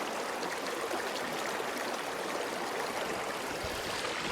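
A river in the Canadian wilderness flows steadily, a broad even rush and hiss of moving water with faint gurgles, continuous and fairly close, with no voices.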